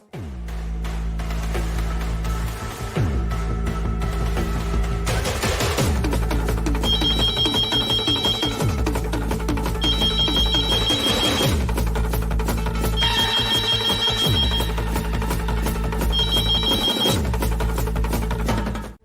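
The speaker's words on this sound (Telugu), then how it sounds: "మా ఇంటి ల్యాండ్ లైన్కి కాల్ చేయండి" A landline telephone rings in repeated bursts of bright electronic trilling, four rings spaced a few seconds apart over a steady music and drama background.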